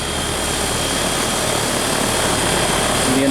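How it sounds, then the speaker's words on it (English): A 2-ton air-cooled chiller from KIG Temp Corp runs with its compressor and fan going, giving a loud, steady, continuous whirring drone with a faint hum and no pauses. "The indicator light comes on for compressor 1 run, and our fan is running."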